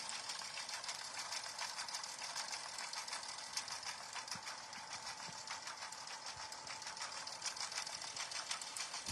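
A Brother embroidery machine stitches a patch design in a fast, even mechanical chatter of needle strokes that runs steadily at moderate volume, with no voices.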